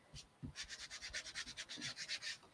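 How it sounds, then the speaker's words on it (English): Chalk paste being buffed smooth on a wooden box frame: a quiet, close, rhythmic rubbing with repeated back-and-forth strokes about every fifth of a second, with no talking. "I'm just kind of buffing it out now. Kind of smoothing it all out."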